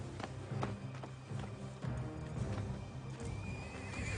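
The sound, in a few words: black horse neighing, frightened at a grave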